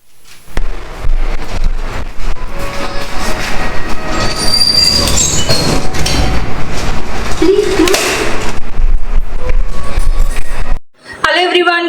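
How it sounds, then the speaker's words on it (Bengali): Inside a moving train: a loud, steady rumble of rolling wheels with metallic squeals and rattles throughout, cutting off abruptly near the end before a short burst of chirpy background sound. "তো ট্রেনে চাপি"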